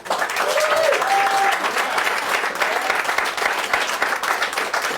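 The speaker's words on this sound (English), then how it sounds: "let's hear it for Dennis and Steven" Crowd applause for the guests at a live interview event with Alice Cooper bassist Dennis Dunaway, dense clapping that swells loudly at first, then settles into a steady patter, with faint voices mixed in.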